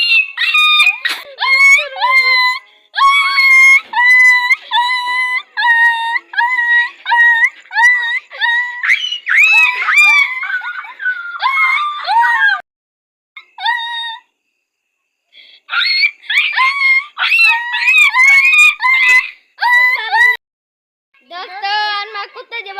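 Boys imitate a dog's howling with their voices, producing a long series of high, wavering wails and yelps in quick bursts with brief pauses, loud and close throughout.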